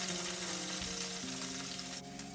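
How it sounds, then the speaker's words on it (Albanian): Garlic frying in a pan over medium heat makes a soft, even sizzle. It is faint and continuous, with a slight hum under it and no voices. "Do ta skuqim për 1 deri në 2 minuta në temperaturë mesatare"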